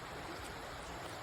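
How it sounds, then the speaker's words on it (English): A small river runs through woods near Dukes Creek Falls by Helen, Georgia, giving a steady, even wash of flowing water, fairly close and unbroken, with no voices. "Little river running through here."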